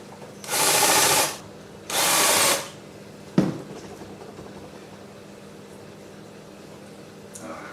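A power drill bores holes in metal wrenches for a wind chime: two loud, steady whirring bursts about a second each, then a sharp metallic clunk and faint rattling.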